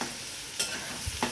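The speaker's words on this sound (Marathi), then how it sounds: "तर आता खरपूस होईपर्यंत कांदा छान भाजू द्यायचा" Sliced onion frying in hot oil until crisp, giving a steady, fairly quiet sizzle with a couple of brief stirring clicks and no voices.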